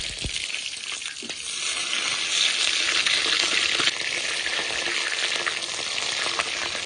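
Large prawns, about three hundred grams each, sizzle in hot oil in a pan, a steady loud frying hiss with a few crackles and no talk.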